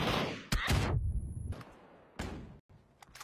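Gunfire in a PUBG match at a PCL esports tournament: a few sharp, loud shots and short bursts crack out at irregular intervals over a quiet background, with brief gaps between them.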